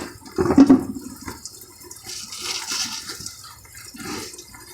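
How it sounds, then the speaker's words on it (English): Water gushes and splashes out of a 2008 Ford Taurus X engine part in a short burst, then trickles and drains more quietly. "You can drain that water out of that."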